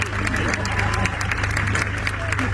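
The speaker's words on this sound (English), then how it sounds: "So big round of applause for the next athlete." Applause for an athlete at the Peak District Highland Games, a steady outdoor crowd clapping with a continuous low hum underneath and talk over it.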